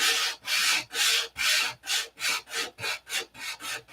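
Hand sanding of wooden fillets, a close raspy scrubbing repeated in about nine regular strokes that quicken and soften slightly toward the end, with no talking.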